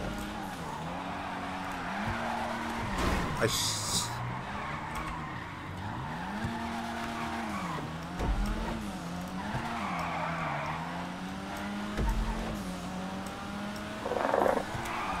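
Tires on a Toyota 86 in GTA V squeal repeatedly as the car brakes and slides downhill, with the engine droning beneath, occasional thumps, and a short spoken exclamation.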